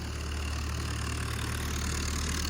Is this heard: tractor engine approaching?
yes